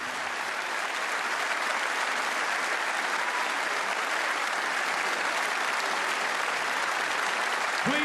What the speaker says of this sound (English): The crowd are applauding